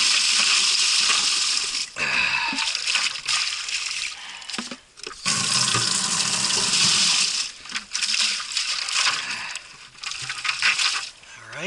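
Water splashes and sloshes while a metal maple sap bucket is rinsed outdoors, loud gushing bursts with short gaps and clanks as the bucket is emptied and refilled, close to the listener.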